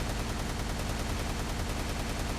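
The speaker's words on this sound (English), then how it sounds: "So not only do we get the arm cannons right here" Iron Legion arm cannons in a Minecraft superhero mod fire a dense, continuous barrage of rapid shots, loud and steady throughout with no pauses.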